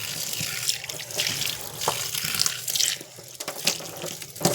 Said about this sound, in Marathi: मी आता मस्त कोबी चाळणीमध्ये धुवून घेणार आहे